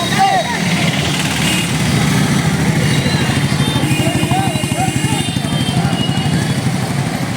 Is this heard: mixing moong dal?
no